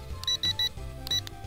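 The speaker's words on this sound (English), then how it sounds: "And you hear the beep." A toy drone gives three quick, high-pitched electronic beeps in a row, then a short pause and one more beep, over a faint hum.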